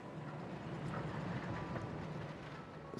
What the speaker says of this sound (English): Train.